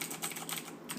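Rapid, steady clatter of keys on a Razer BlackWidow mechanical gaming keyboard, loud and close, with bright clicky strikes coming in quick uneven bursts and no voices.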